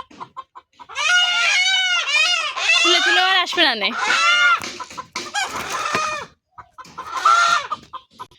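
Farm chickens, frightened and hiding, cluck and squawk in agitated bursts close by, with a rooster's crow mixed in, while people talk over and between the calls.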